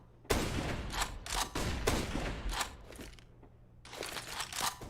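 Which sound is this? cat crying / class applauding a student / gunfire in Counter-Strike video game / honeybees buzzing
gunfire in Counter-Strike video game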